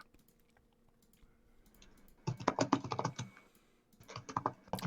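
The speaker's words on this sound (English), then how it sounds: "Sounds like typing." Close, crisp typing on a computer keyboard, quiet at first, then two rapid bursts of clattering keystrokes separated by a short pause, no talk.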